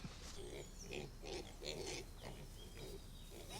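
Pigs on a Scottish estate farm grunting and snuffling in a steady run of low, rough calls, fairly close over an outdoor background.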